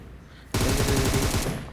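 Gunfire in PUBG Mobile, a rapid automatic burst of closely spaced shots that starts abruptly after a quiet moment and runs for about a second before cutting off.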